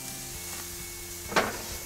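Stuffed beef rolls brushed with butter sizzle steadily on a barbecue grill, a soft continuous crackle with one brief louder flare near the end, no voices.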